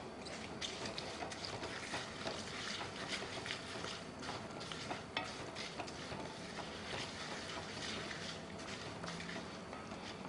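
Guntur and Chikkaballapur chillies with green chillies and coriander frying in hot oil, a dense, steady crackling sizzle with fine popping throughout, soft and close, no talk.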